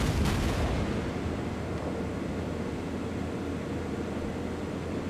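Warship main guns firing in a naval battle video game, a loud booming blast that rolls into a long low rumble and fades into sustained noise.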